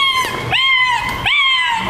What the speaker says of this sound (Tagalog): May tuta dito sa studio.